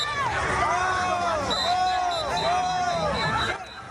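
A loud, noisy crowd of students scuffling with police, some officers mounted, on a street in Texas, with dense shouting and babble and a few rising and falling whistle-like tones riding above the din throughout.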